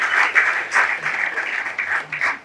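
Audience applauding at a Tamil book launch for Erumai Maram, a burst of clapping from a crowd in a hall that swells and dips in waves for a few seconds.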